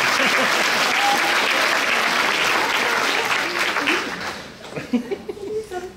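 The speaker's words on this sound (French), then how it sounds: "On peut l'applaudir, oui, pour faire fort." An audience at a regional science fair award ceremony in Québec bursts into loud, sustained applause with some laughter, which fades after about four seconds into scattered claps and murmuring.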